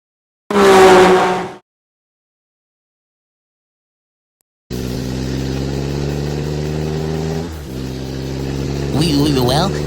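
Cartoon car engine cranking to life after a pause, then a steady loud revving rumble that dips briefly and swells again near the end, with a voice speaking at the start.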